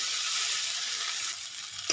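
Onion stalks fry in a pan with turmeric, salt, chilli paste and cumin paste, giving a steady bright close sizzle that eases slightly near the end, where a short clink of the spatula is heard.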